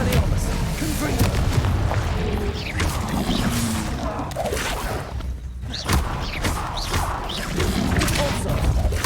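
Repeated Confringo spell blasts from Hogwarts Legacy, dense booming explosions and crashing impacts layered continuously over busy combat noise, loud and close throughout.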